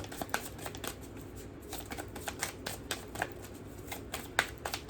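Moonology oracle cards shuffled by hand, a steady run of soft riffling flicks and slaps with small louder snaps, close and alone with no talk.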